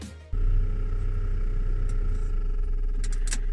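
Loud, steady engine-bay fan roar from a 1.8 Vauxhall Vectra C, kicking in abruptly after a brief quieter moment and then holding a constant whirring drone with a faint rattle, no talk over it.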